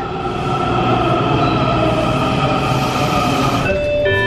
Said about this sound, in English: This is a yellow line train to Mount Vernon Square.